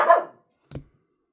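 A dog gives one short, close bark, followed after a brief pause by a second quick, fainter yip in an otherwise quiet indoor setting.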